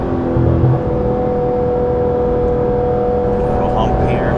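A Porsche GT3 RS with Dundon race headers and a full exhaust drones loudly and steadily from inside the car while driving, with a sustained engine tone and talking over it.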